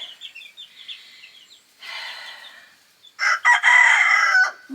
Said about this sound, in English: It's a rooster from one of the coops next door you're hearing.